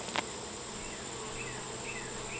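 Honey bees buzz during a hive inspection, a steady dense hum close to the listener, with a brief tap at the start and no talk.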